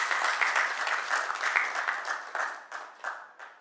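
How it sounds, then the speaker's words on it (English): Audience at a business appreciation night gala applauding sponsors, a dense burst of clapping that gradually thins and tapers off, with a few separate claps near the end. "Let's give them a big round of applause"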